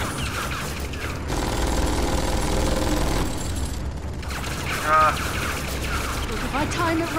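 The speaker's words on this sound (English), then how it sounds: "If I time it right, I can run through the gunfire." Gunfire in the Tales from the Borderlands video game, a dense continuous fusillade of shots and booms rolling on for several seconds, loud, with a brief burst of louder impact midway.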